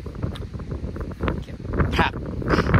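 Strong, cold wind blowing outdoors in the evening, buffeting the microphone with a constant rumbling gusty noise, while a person talks over it throughout.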